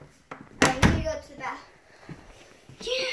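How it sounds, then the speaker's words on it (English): An indoor door swings shut with a solid thunk, followed by softer knocks and rustling, with a voice talking around it. "I have to close the doors."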